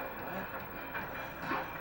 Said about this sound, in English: The train is over there!